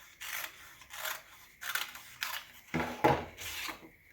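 Scissors cutting through paper along a drawn line to make a folded paper fort: several separate snipping strokes, each a short rasping burst with brief pauses between, close and fairly soft, with no talking.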